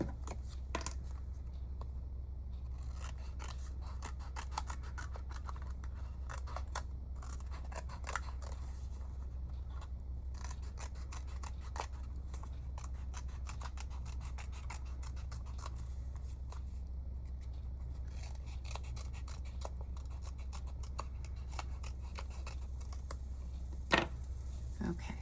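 Scissors snip out paper and cardstock pieces for a Winnie the Pooh honey pin craft, sounding as soft scattered cuts and rustles over a low steady hum.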